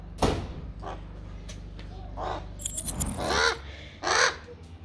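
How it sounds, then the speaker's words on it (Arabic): A tame crow caws several times at close range, harsh separate calls spaced a second or so apart, mixed with clattering sounds and a little background talk. "السيد غراب محترم."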